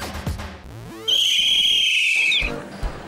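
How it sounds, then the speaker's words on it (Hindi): A loud, sustained whistle blast lasting over a second, preceded by a brief rising note, then trailing off. "सीटी बजाना क्या सिर्फ लड़के ही जानते हैं?"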